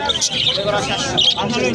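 Small caged birds chirp and tweet in short bursts over a busy crowd at a bird market, with people talking nearby throughout.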